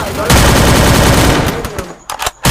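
Rapid automatic gunfire in the Free Fire battle game, a loud sustained burst lasting over a second, then a few scattered short shots, with a voice talking over part of it.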